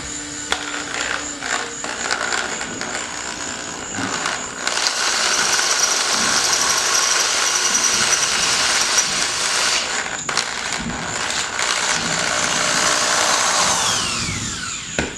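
A power drill bores freehand through soft copper for a grounding kit on a 2005 Subaru Legacy GT, whining steadily throughout, its pitch holding with brief dips as it cuts, fairly close and loud with no talking.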